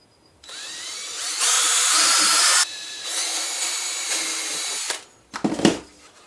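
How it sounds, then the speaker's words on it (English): A power drill whirs in several close, loud bursts, drilling pilot holes for mounting a shelf, its pitch shifting as it bites into material, with short pauses between runs. "So now I'm going to drill those holes."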